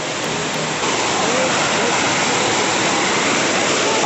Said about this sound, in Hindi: पानी का फ्लो इतना ज़्यादा है, उसका ही आवाज़ ज़्यादा आ रहा है